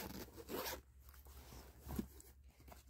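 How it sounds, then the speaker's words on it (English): The front pocket zipper of a crochet and yarn backpack is pulled open, a faint scratchy zipping in two brief strokes, close up and quiet. "And that zips all the way open and down"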